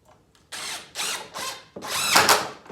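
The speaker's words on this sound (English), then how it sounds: "I'm going to put a screw up here in this corner, just for the sake of argument." A screw being driven into the corner of a new countertop in a vintage Shasta camper travel trailer, heard as several short bursts of power-driver whirring and ratcheting, growing longer and louder toward the end.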